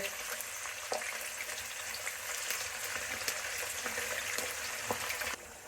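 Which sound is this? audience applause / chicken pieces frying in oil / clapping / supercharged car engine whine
chicken pieces frying in oil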